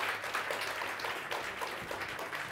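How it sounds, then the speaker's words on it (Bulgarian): Audience applause at a Bulgarian Researchers' Night science event, a brief, fairly distant wash of clapping without voices. "Аплодисменти за нашите гости."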